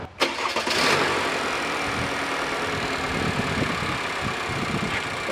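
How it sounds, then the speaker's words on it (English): A car engine cranks and catches, then settles into a steady idle hum with the AC compressor engaged, close by with a constant low rumble. "Okay, the engine is running, the compressor is engaged."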